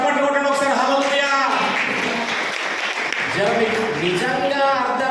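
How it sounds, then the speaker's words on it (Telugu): A church congregation clapping during a sermon, a burst of group applause mixed under and between a preacher's loud, amplified speech. "చప్పట్లు కొట్టండి ఒకసారి"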